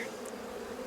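A close, steady hum of honeybees on brood comb in a hive, nurse bees at work feeding larvae, continuous and alone.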